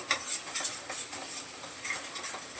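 Masala spices being sautéed and stirred in a pan while making a sprouted moth bean usal with tomato purée: a steady close scraping and light sizzle with repeated spoon strokes, no talking.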